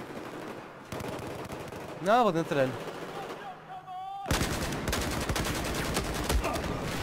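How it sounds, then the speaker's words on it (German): Gunfire from the video game Battlefield 4 comes in bursts, with a sharp crack of automatic fire and then a heavy, continuous volley near the end. A player speaks briefly between the shots. "Ich werde von überall beschossen."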